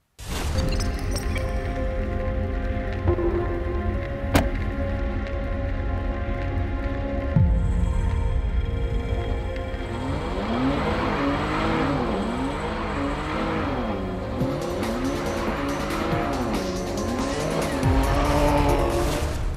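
A Jaguar with a 4-litre V6 howls around a race track in northern Spain, its engine note climbing and dropping through gear changes, with brief tire squeals and a loud, continuous roar close to the car.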